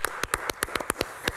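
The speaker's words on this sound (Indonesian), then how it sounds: "Tepuk tangan dulu deh." Brief clapping during a health talk show on managing blood sugar: about ten crisp, closely spaced hand claps in a quick, fairly even rhythm, heard alone without voices.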